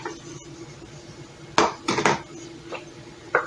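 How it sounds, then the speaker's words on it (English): Beef stroganoff being scooped from a slow cooker container with a utensil, giving a few close clattering scrapes and knocks of metal against the pot after a quiet start, with one last scrape near the end. "I'm scooping it out. Trying to get all out of my container"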